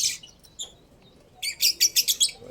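Small birds chirp and tweet nearby in an aviary, first a few scattered calls, then a quick run of bright repeated chirps, with no talking.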